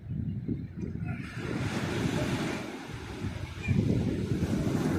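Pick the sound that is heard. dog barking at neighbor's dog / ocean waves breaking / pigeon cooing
ocean waves breaking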